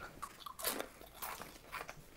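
Potato chips crunch in a few quick, close bites, crisp but fairly quiet, with no talking.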